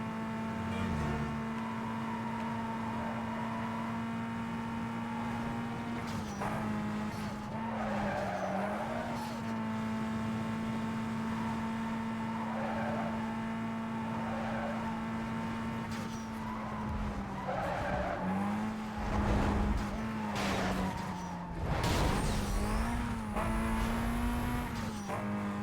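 A Koenigsegg in the racing game Need for Speed Most Wanted races with a steady engine drone, repeated tire squeals and skids, and shifts in engine pitch, loud and continuous.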